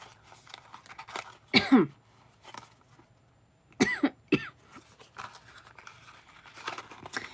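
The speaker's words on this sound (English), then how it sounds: "It's weird. I had like a dry cough." A few sharp, dry coughs burst out in separate clusters, close to the microphone, with quiet gaps and faint rustling between them.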